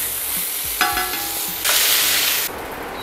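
A burger patty fries and sizzles in a hot pan, with a steady hiss that swells louder partway through, alongside clinks of a utensil; no one talks.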